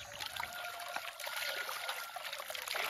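Tap water pours and trickles steadily over a farmed sturgeon of about three pounds, already cleaned by the fishmonger, as it is rinsed in a kitchen; a continuous close splashing stream with no talk.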